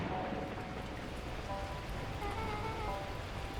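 Torrential rain pours in the video game Beacon Pines, a steady dense hiss that holds at an even level throughout with a few faint tonal notes above it and no talking.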